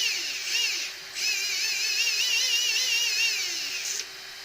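Brushless motor of an RC drift car running on a SkyRC Cheetah ESC, a high warbling electric whine that revs up and down in a few bursts with brief pauses, close and loud with no talk.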